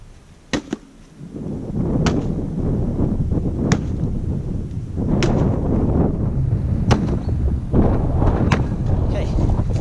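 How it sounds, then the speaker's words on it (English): Wind blows steadily outdoors at an earthbag building workshop, a loud low rumbling buffet against the microphone with a few sharp knocks and taps scattered through it. "Sorry about the wind, it's just got really windy."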